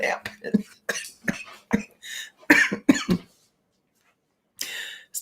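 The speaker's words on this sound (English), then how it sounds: "Still a little cough." A woman coughs repeatedly in short, sharp bursts, close by and fairly loud, mixed with brief throat clearing and a final cough after a pause.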